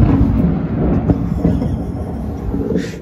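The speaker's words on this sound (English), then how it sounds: "you don't like the thunder, do you, Charlie?" Thunder rumbles during a storm, a loud, continuous low roll that swells and fades across the clip, with no voices.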